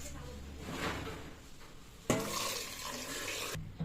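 Filtered water is poured into mashed lentils for sambar: a soft, close trickle and splash, then a sharp clatter of a vessel and a fuller gush of pouring that ends abruptly.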